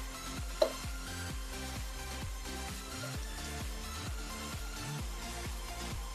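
Butter melting in hot oil while cooking vegetarian butter paneer: a soft, continuous sizzle with rhythmic stirring scrapes repeating about twice per second, close and quiet, with no talking.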